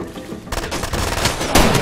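Rifle gunfire in the video game Far Cry 2, a loud, close burst of sharp cracking shots with a heavy blast near the end, over a dense in-game background.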